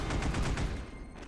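An auto cannon fires in the sci-fi shooter Space Beast Terror Fright, a rapid heavy burst of about seven booming shots that ends abruptly, loud and close.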